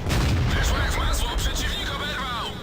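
A loud, booming tank cannon blast in World of Tanks, followed by rumbling and whooshing debris-like noise.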